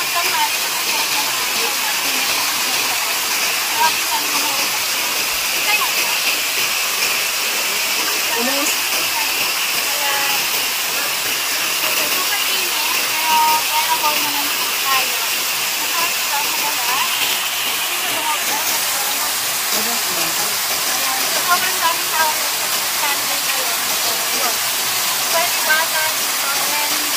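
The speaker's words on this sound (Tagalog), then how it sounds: "we are here at mainit falls or mainit hot spring" Mainit Falls hot spring in Davao, a steady broadband rush of falling water that holds constant and loud throughout, with a faint steamy hiss and no clear voices over it.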